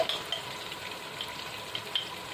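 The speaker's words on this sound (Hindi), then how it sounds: "अब मैं डालूंगी इसमें अदरक और लहसुन।" Ginger and garlic frying in a pan with oil while cooking chana pulao, a steady soft sizzle running throughout, with faint crackles and stirring ticks near the surface and no talking.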